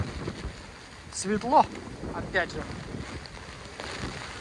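Stormy sea and wind at night on the Lazarevskoye promenade in December, with a steady broadband rush of surf and wind buffeting the microphone, while someone talks intermittently over it.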